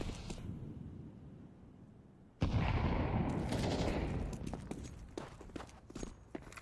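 Gunfire rings out in a competitive shooter video game, a sudden loud burst of rapid shots after a quiet stretch, followed by scattered sharp cracks and footstep-like clatter.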